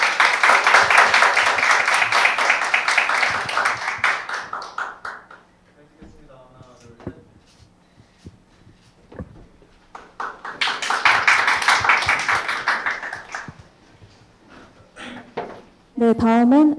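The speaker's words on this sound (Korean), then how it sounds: "네, 큰 박수 부탁드립니다." Audience applause at a Korea University startup award ceremony, two loud bursts of clapping separated by a quieter pause with brief speech, then a short voice at the end.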